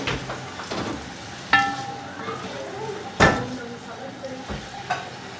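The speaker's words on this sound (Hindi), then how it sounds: "प्याज को फ्राई करूँगी मैं।" Onions frying in about a cup of oil for a Pakistani aloo gosht, giving a steady sizzle broken by a few sharp clinks of a spoon stirring the pan.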